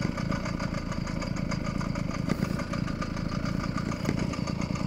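A motorized bicycle engine idles a little high at around 1600 RPM, a steady, rapid putter with an even rhythm, heard close and unbroken for a few seconds.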